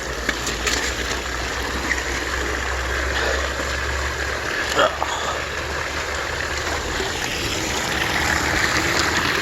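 A homebuilt highbanker's pump runs steadily with water rushing and trickling through the sluice, a constant mid-level wash of flow and motor noise with no talk.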